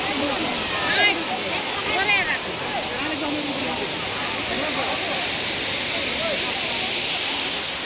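Steady broadband roar of the heavy-flowing Khaipholangso waterfall in Assam, constant and fairly loud throughout, with people talking over it in the first few seconds.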